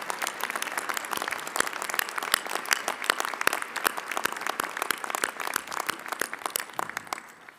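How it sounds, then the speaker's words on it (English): Sustained applause from a seated convocation audience honoring liberal arts and sciences graduates, dense steady clapping with scattered sharper claps, fairly distant and even throughout, fading slightly at the end. "will you please stand up for a special round of applause?"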